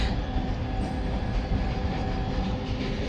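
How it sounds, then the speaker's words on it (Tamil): A train rumbles past close by with a steady, heavy roar and faint rhythmic clatter, filling the whole clip with no voices. "ட்ரெயின் பக்கத்தில் போகுது."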